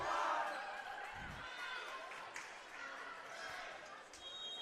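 A crowd roars loudly from the stands at a girls' varsity volleyball game, a broad sustained cheer with a brief thump partway through and scattered shouts over the noise.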